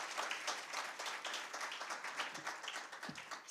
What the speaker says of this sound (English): So please, round of applause for the executive team of Smart Africa.